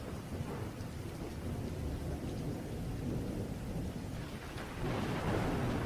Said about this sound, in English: Rain lashed against the windows, a relentless drumbeat that mirrored the frantic rhythm of my heart.